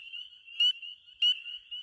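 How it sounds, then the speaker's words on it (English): Spring peeper frogs native to Pennsylvania call with a steady high, piercing peep, two brief louder bursts of calling standing out over a continuous chorus. "Spring peepers are out from a lot of times late February until November."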